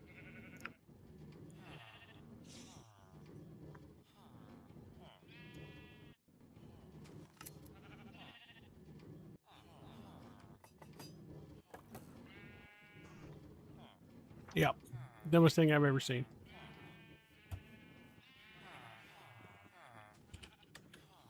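Sheep in a video game bleat over and over in short, wavering calls, one louder cry near the middle, while someone talks quietly throughout.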